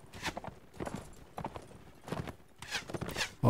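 A crippled horse's hooves clip-clopping in the Warband mod Warsword Conquest, a steady run of muffled hoofbeats under battle clatter in a video game, moderately loud with a sharp knock at the end.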